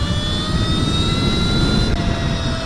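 Stark Varg electric motorcycle pulling hard to about 70 mph on a highway, a steady high electric whine with rising tonal harmonics over heavy wind rush, loud and continuous throughout.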